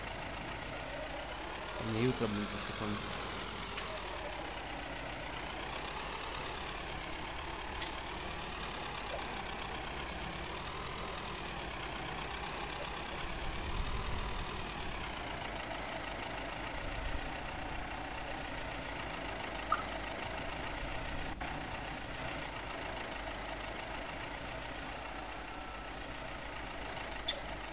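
A tractor towing a baler in Farming Simulator 2013 hums with a steady engine drone that runs throughout, with someone talking over it.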